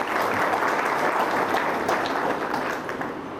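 An audience claps together in a dense, sustained wash of applause that holds steady for a few seconds before easing slightly at the end.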